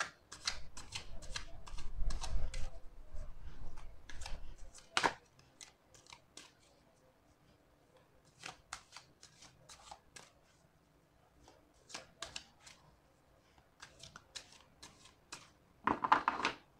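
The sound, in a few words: shuffling tarot cards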